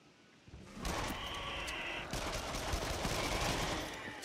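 Rapid bursts of gunfire in the Until Dawn VR video game on PlayStation VR, a sustained loud volley of shots over a few seconds with no voice over it.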